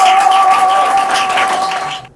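Audience applauding Anderson Kuyo, president of the Kuyo Foundation, at a national awareness campaign launch in Côte d'Ivoire, a short burst of loud clapping mixed with a sustained tone that fades out at the end.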